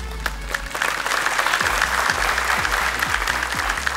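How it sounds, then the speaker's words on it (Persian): Studio audience at an Afghan Family Feud-style game show clapping together, a dense burst of applause that builds and holds steady for several seconds, with rhythmic thumps of music beating underneath. "تشویق کنند"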